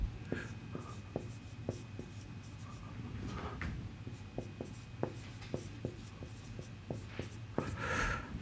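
Chalk or pen tapping and scratching out equations on a board during a lecture on partial differential equations, a string of sharp clicks and short strokes at an irregular pace, quiet and fairly close, with no speech.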